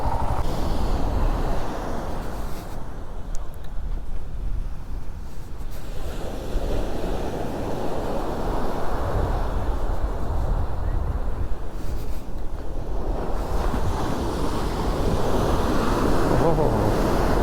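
Ocean waves breaking on the beach at Gokarna, a steady loud roar of surf that rises and falls in broad swells, with wind noise on the microphone throughout.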